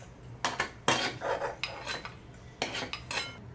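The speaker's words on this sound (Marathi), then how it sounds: "खोबरं आता हे गोल्डन कलरवर भाजून घ्यायचं आहे" Grated coconut roasted in a pan until golden for a crab curry, a metal spatula scraping and clattering against the pan in uneven, close strokes with short pauses between them.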